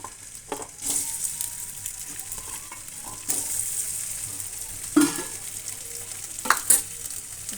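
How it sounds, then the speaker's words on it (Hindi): Potatoes fry in a little oil for a bhindi salan, a soft steady sizzle punctuated by a few sharp spatula scrapes and clinks, close by with no talking. "थोड़ा तेल डाल के आलू फ्राई कर लेती हूँ"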